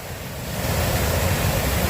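Hassen Creek waterfall pours in a steady, full rush of broadband water noise that swells slightly and stays constant throughout, with no voices.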